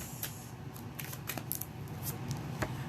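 Tarot cards being shuffled by hand, a soft continuous riffling and sliding of card stock with scattered sharper flicks and snaps over about three seconds, close and fairly quiet, with no talking.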